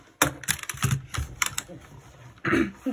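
A computer keyboard being set up for a gaming desk gives irregular clicks and clacks of keys and handling, loud close taps scattered through the moment.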